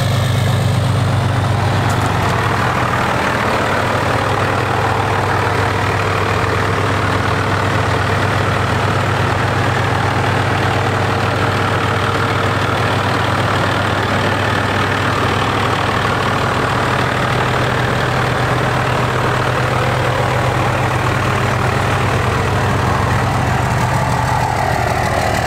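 A truck engine idles steadily and loudly, a deep continuous rumble that holds for the whole stretch with no voices.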